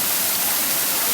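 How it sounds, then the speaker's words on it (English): Steady, dense rush of falling water from Karu waterfall in Abuja, a continuous broadband roar heard up close with no pauses and no voices. "You might want to visit our waterfall someday."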